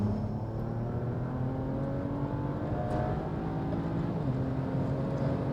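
A BMW E92 335i with an N54 engine, JB4 and port injection running flex fuel, pulls at full throttle in third gear from low RPM, a continuous close engine drone with a slowly climbing pitch and no voices.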